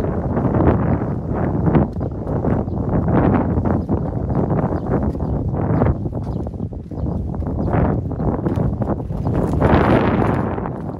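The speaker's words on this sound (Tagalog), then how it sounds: "Lakas ang hangin." Strong wind buffets the microphone in loud, uneven rushing gusts that rise and fall throughout.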